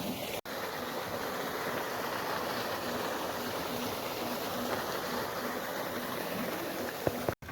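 Irrigation water pours steadily into a peanut field, making a continuous broadband rush at even loudness that barely changes throughout and briefly cuts out near the start and end.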